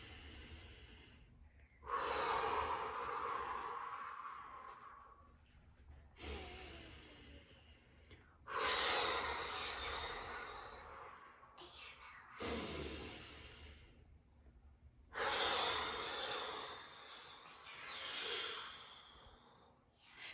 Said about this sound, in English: So we're going to breathe in and out like the ocean.